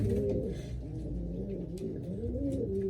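A loft of racing pigeons keeps up a dense, overlapping chorus of soft, rolling coos, near and steady, with occasional faint higher chirps.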